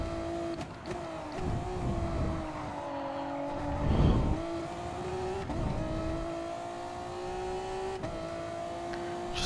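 Race car engine in Gran Turismo Sport revving hard as the driver floors it out of a turn, a steady rising harmonic drone with brief gear-change dips and a louder surge midway, with no talk.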